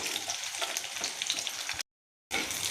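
Onion and green chilies frying in a pan with mustard seeds and cumin for kanda poha: a bright, crackling sizzle up close, briefly cut to total silence before it resumes. No one speaks.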